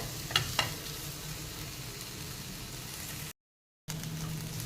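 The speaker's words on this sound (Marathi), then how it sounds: "मी आता ही शिमला मिरची घातलेली आहे तीसुद्धा आपण एखाद मिनटं परतून घेऊया" Capsicum sautéed with onion in a pan, a continuous hissing sizzle with a couple of early spatula taps, briefly cutting to silence near the end before the sizzle resumes.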